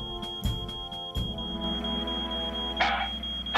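An animated Fireman Sam cartoon alarm sounds as a steady high electronic tone under music and scattered effects, with a burst of noise near the end.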